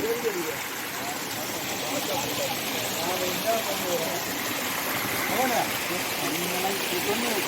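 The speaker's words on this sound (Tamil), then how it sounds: "தண்ணி ஊற்று தண்ணி போய்கிட்டு இருக்கு" Spring water runs in a steady, continuous stream beside a mountain footpath on a pilgrimage trail, a close, even rushing wash that fills the whole stretch.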